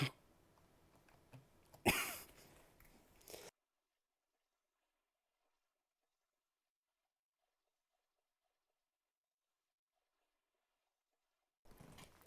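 A single sharp cough bursts out close by, after some low background noise, then everything drops into near silence.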